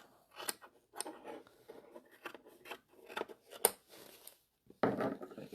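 Sharp metal scissors trim the excess edges off crazy-patchwork fabric, snipping close up in quick irregular clusters of cuts separated by brief pauses.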